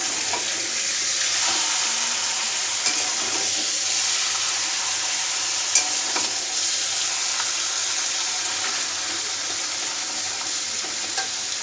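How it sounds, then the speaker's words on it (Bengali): Meat sizzles and fries steadily in a pan while being stirred for biryani, a dense, continuous hiss running unbroken for several seconds with occasional small clicks of the spoon. "মাংসটা কষে নিচ্ছি"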